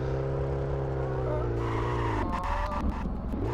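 A car in Street Legal Racing Redline brakes hard, its steady engine drone bending downward into a sharp tire squeal and skid before the engine picks back up, with a brief voice over it.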